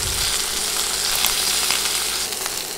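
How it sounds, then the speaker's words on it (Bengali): Hilsa fish pieces fry in hot oil in a pan, a steady, loud, close sizzle and crackle with a few brief spikes as the pieces are turned. "এভাবে উল্টে পাল্টে মাছের পিসগুলো ভালোভাবে ভেজে নেব"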